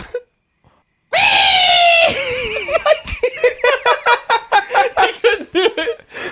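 After a brief silence, a person gives a long high shrill screech imitating an owl, then dissolves into rapid bursts of laughter.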